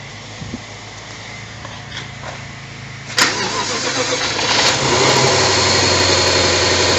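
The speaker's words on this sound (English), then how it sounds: "So let's start the car and find out" A car engine cranks and catches partway through, then settles into a steady mid-pitched idle that carries on to the end, loud and close, with no one talking.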